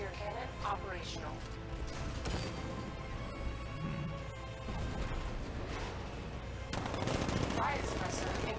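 A tank cannon fires repeatedly in Batman: Arkham Knight, sharp booming blasts with mechanical clanks and crashes layered over game dialogue, fairly quiet overall.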